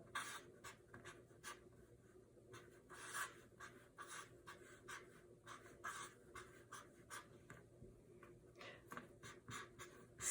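Chalk writes a structural formula on a classroom board, giving a series of short scratchy strokes and taps in uneven bursts over a faint steady room hum, fairly quiet, with no speech.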